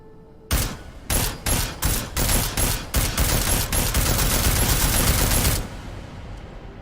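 Combat rifle fire in Deus Ex Mankind Divided: a string of loud, close shots, first spaced single rounds, then rapid continuous automatic fire for several seconds before it stops abruptly.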